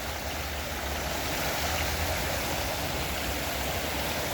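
Park fountains and a small waterfall in Baku's Victory Park give off a continuous, even rush of splashing water, close and steady with no talking.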